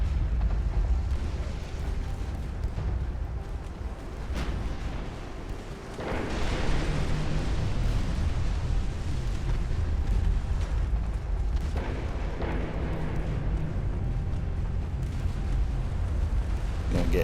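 Torpedo hits burst against warships during a naval battle in Ultimate Admiral: Dreadnoughts, several heavy booms striking over a constant rumble of gunfire and distant explosions.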